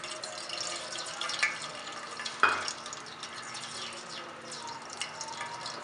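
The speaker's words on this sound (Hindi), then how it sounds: "सबसे पहले बर्तन में घी डालेंगे।" Desi ghee is poured into a cooking pot for halwa and sizzles softly in a steady hiss, with a sharp clink of utensil against metal partway through, close and continuous, with no talking.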